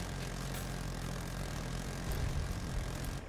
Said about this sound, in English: Flying a helicopter.